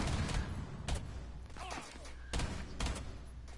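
Rapid bursts of gunfire in a Rainbow Six Siege match, with several sharp volleys spread across the moment amid steady game noise, and a player's voice briefly heard between shots.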